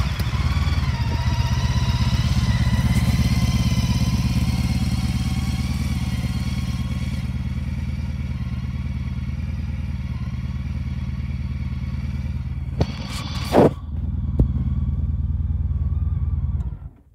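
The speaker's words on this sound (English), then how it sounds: "And the bike sounds great, as always." A 2014 Honda CTX motorcycle engine runs steadily close by for the whole stretch, with a low, even rumble and a few sharp clunks and thumps near the end before it cuts off.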